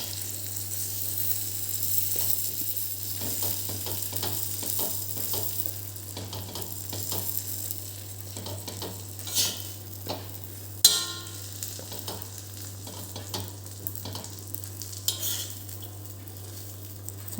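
Katka dabeli, a street snack, roasting in butter on a pan gives a continuous soft sizzle. Scattered spatula scrapes and light metal clinks sit over it, with one sharper knock partway through.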